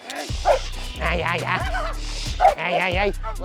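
A protection dog being trained for home security barks and yips close by in several short bursts, with whimpering tones mixed between the louder calls.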